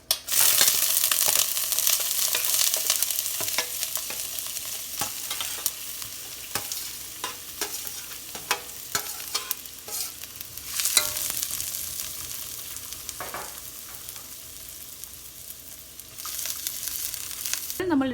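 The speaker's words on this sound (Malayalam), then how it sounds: "അപ്പോൾ നമ്മുടെ എണ്ണ ചൂടായി നമ്മൾ ഉള്ളിയും നമ്മുടെ ബ്രോക്കലിയും എല്ലാം കൂടെ ചേർക്കുകയാണ്." Chopped onion and broccoli fry in hot oil in a pan, a close, continuous sizzle that starts loud as the vegetables go in, then settles into a softer crackle broken by sharp scrapes and clicks of stirring.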